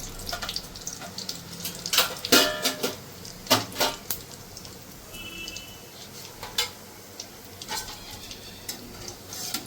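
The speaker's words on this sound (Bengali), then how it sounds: "জিরে ফোড়ন।" Cumin seeds tempering in hot fish-frying oil in a kadai, with scattered sharp crackles and pops bursting over a low sizzle, moderately loud and close, with no talking.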